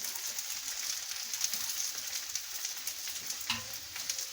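Green chillies and ginger frying in oil for bhindi gosht, a Pakistani-Indian dish, giving a steady close hiss and crackle of sizzling with faint stirring throughout.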